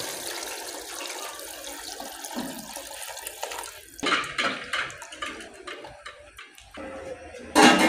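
Water poured into a cooking pot over fried peas, two kilos of water for one kilo of rice, outdoors in a Pakistani village kitchen; a steady splashing pour with louder gushes toward the end, no talk.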